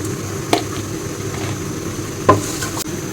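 Ginger, garlic and spices frying in a pan with a steady low sizzle, broken by a few brief stirring knocks and scrapes.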